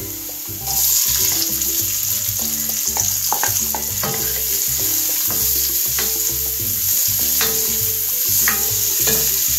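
Red bell pepper sizzles loudly in a pan of frying ratatouille as it is stirred, with a steady hiss and scraping clinks of the spoon repeating close up.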